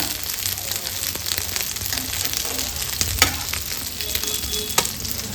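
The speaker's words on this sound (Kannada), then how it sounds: "ಸಿಲ್ವರ್ ಫಿಶನ್ನ ಈ ಥರ ತವಾ ಫ್ರೈ ಮಾಡಿಕೊಂಡ್ರೆ ಗರಿ ಗರಿಯಾಗಿ ತುಂಬ ಚೆನ್ನಾಗಿರುತ್ತೆ" Silver fish shallow-frying on a tawa until crispy, giving a steady, close hiss of sizzling oil with occasional sharp pops and the clink of a utensil turning the pieces.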